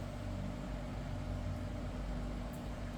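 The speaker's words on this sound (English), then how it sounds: "You can hear the dehumidifier going in the background." A dehumidifier runs in a humid room where kitchen knives are being sharpened, giving a constant, even mechanical hum and airy whoosh with no pauses or other sounds.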